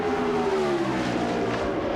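The Remington Arms Ford NASCAR Cup race car screams past on a qualifying run at Indianapolis in the 1996 Brickyard 400, a loud continuous engine whine whose pitch slides downward as it passes.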